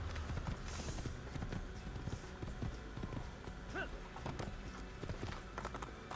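Horse hooves clip-clop at a gallop in the Assassin's Creed video game, rapid rhythmic thuds running steadily throughout, fairly faint in the mix with some game ambience.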